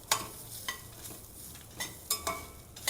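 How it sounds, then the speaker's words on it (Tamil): Urad dal and coconut being dry-roasted in a pan, quiet scraping stirs with light clinks of the spoon against the metal pan, close and sparse, no talk. "இந்த அளவு கலர் வர்ற வரைக்கும் வறுத்தா போகிறோம்"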